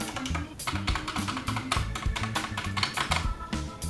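Keys clack rapidly on an SK64 mechanical keyboard with loud, tappy, unlubricated stabilizers, a close, crisp string of uneven clicks and thocks in quick bursts, with no voice over it.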